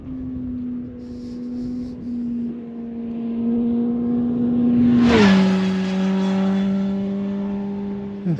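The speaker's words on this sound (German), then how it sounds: "Motorrad" A motorcycle races past on a rural road, its engine drone rising as it approaches, then dropping sharply in pitch as it passes close by and fading away.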